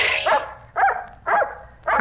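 Dog barks serve as a sound effect in a Spanish-language radio drama: four sharp barks, evenly spaced about half a second apart, moderately loud and alone.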